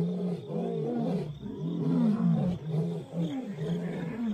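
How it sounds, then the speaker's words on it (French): Lions roar at night, a deep, rough, sustained roaring in several long swells that fill the whole clip, loud and close, with no talking. "Les lions sont des chasseurs nocturnes et représentent une vraie menace pour les chiots."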